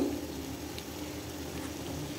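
Chopped onions fry in oil in a pan until browned and crisp, a soft, even sizzle and bubbling crackle that continues steadily without talk.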